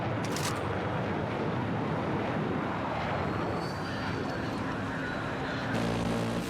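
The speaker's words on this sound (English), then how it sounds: "Oh, attack jet's back." An attack jet roars through a Battlefield 6 match, a loud continuous engine rush that fills the whole stretch alongside dense gameplay noise.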